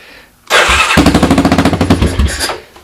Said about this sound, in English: I push the button and my motor fires up.